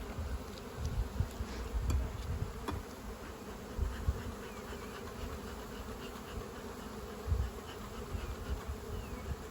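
Dense swarm of honeybees droning steadily around an opened hive during an inspection, a continuous close buzz with occasional louder passes of individual bees near the listener.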